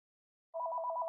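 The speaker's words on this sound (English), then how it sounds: "If you hear a phone in the background" A telephone rings in the background, a steady warbling electronic ring that starts about halfway through and holds at moderate level with no talk over it.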